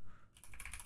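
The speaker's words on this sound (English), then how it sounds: "Let's select the text tool and type in the text." Rapid keystrokes on a computer keyboard while text is typed into graphics software, a quiet, close run of crisp taps starting after a brief pause, with no speech.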